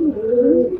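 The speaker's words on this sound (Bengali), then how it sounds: "এই মুহূর্তে আমরা একটি গোলালাল মাদি কবুতর দেখতে পাচ্ছি" A red-necked Golalal female pigeon coos close by in a steady, continuous, fairly loud rolling murmur, with no other sounds.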